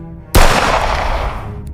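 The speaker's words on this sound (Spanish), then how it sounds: "sonó el primer disparo" A single loud gunshot cracks sharply during an armed siege of a sect's compound, followed by a long rolling echo that slowly decays.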